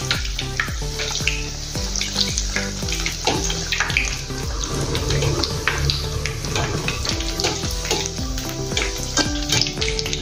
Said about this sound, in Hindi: ऊपर से इसे तेल डालेंगे।